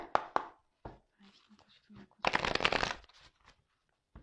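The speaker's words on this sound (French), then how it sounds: "je vais prendre quelques cartes pour voir qu'est-ce qu'il se passe" Tarot cards are shuffled in a few quick riffling bursts, close and crisp, with a soft voice speaking briefly between them.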